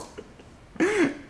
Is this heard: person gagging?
yes